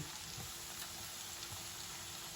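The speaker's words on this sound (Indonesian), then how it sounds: "sekarang kita goreng guys, gebrus. Goreng sampai golden brown." Popcorn chicken frying in hot oil, a continuous soft sizzle and crackle with faint bubbling, heard alone and fairly quiet.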